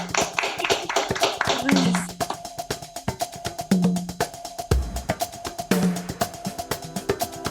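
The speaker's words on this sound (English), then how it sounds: "do you want to just do a quick round of applause" A small audience claps in a sparse, uneven patter of individual hand claps with audible gaps, fairly close and modest in volume, with brief voices and murmurs mixed in.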